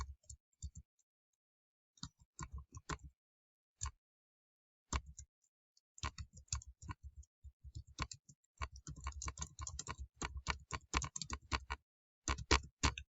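Code is typed on a computer keyboard in quick, irregular bursts of crisp key clicks separated by short pauses, close and fairly quiet with no talking.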